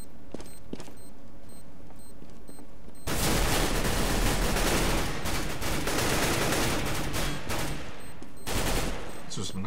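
Gunfire in the video game CS:GO, a few isolated shots followed by a long, loud burst of rapid automatic fire and overlapping shots, with players talking over it.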